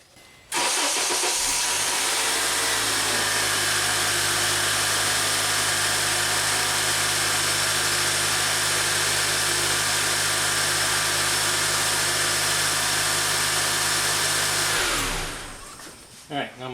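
Honda car engine started and left idling while the power steering is turned lock to lock, a steady close mechanical drone with a constant low hum and hiss that runs unbroken before cutting off near the end.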